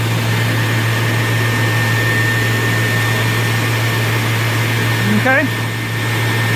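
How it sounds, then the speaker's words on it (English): A Viper Jet starter generator spins with a steady whining hum and a constant electrical drone, close and fairly loud. Someone speaks a short word near the end. "Starter generator's there spinning away."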